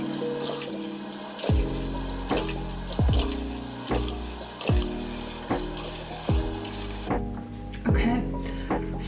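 Lukewarm tap water running steadily into a sink while a face mask is rinsed off, with splashing pulses and a speaking voice over the flow before it cuts off near the end.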